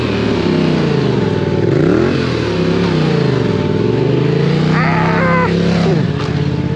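Motorcycle engine revs during a wheelie, rising and falling in pitch as the throttle is worked through the clutch, loud and close with a brief high whine near the end and no talking.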